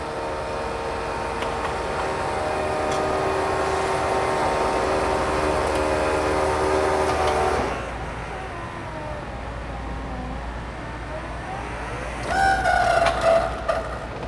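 The power top on a 1965 Ford Thunderbird convertible lowers with a steady electric motor whine and hum that stops partway through, followed by quieter mechanical clicks and a brief rising whir near the end.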